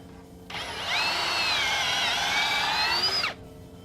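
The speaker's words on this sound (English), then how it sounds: "So then you just drill in here until it stops" A power drill whirs steadily for about three seconds, its pitch wavering slightly as it bores a pocket hole into wood, then spins down and stops.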